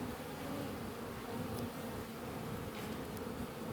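Honey bees buzz steadily around burr comb on top of hive frames during a cool-weather inspection, a dense continuous drone filling the whole stretch at moderate, close range with no talking.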